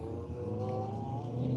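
A race car engine hums steadily with a tonal drone, easing off throttle and winding down, with no voices.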